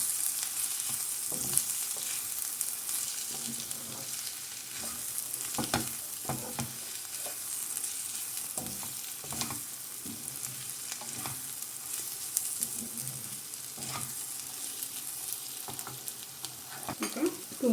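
Prawns frying with homemade garam masala, stirred slowly in a pan: a soft continuous sizzle carries light scraping and tapping strokes from the spoon throughout, close and even, with no voices.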